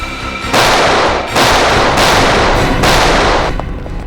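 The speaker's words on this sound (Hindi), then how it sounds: "Firing range." Gunfire rings out at a firing range, with three loud, dense bursts of rapid shots separated by brief pauses, close and harsh.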